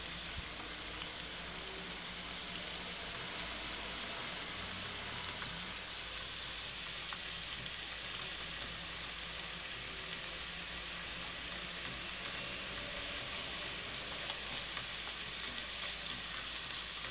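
Kue bawang dough fries in hot oil over low heat, giving a steady, even sizzle and bubbling that holds throughout without talk.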